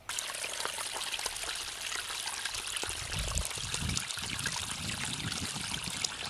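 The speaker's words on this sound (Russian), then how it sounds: "Разливается река, журчат ручьи." Spring meltwater streams babble with a steady, continuous trickle and light splashing, a soft low rumble of flowing water swelling partway through, with no voices.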